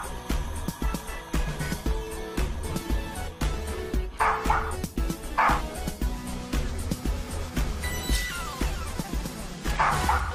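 A dog barks and yips in short repeated bursts over steady background music, sounding near and fairly loud.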